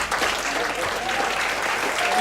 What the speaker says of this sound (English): So please, one more time, give a big applause to Elaine.